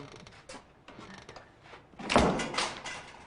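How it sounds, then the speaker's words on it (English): A door closes with a single muffled thunk partway through, followed by a brief rumbling tail in a quiet indoor room. "Please close the door."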